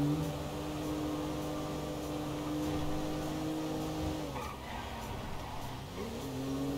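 A car in GTA V drives steadily with a loud engine hum, then brakes hard while still moving fairly fast, the engine tone dipping and shifting before rising again.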